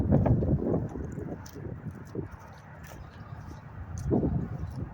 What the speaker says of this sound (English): Okay, still windy.